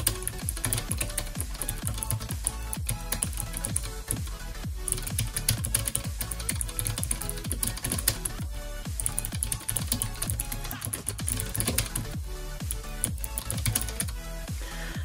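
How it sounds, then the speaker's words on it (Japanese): Touch typing on a computer keyboard during a blind-typing drill gives a continuous, dense rattle of close, crisp key clicks at a fast, uneven rhythm with no pauses, heard alone. "それではタイピング。"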